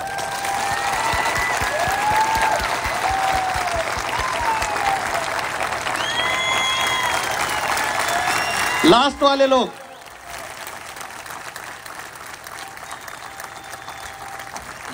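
Audience clapping at a direct selling business motivational seminar, sustained and fairly loud for about nine seconds while someone speaks over it, then cutting off abruptly into quiet room tone.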